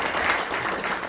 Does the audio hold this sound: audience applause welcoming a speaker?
yes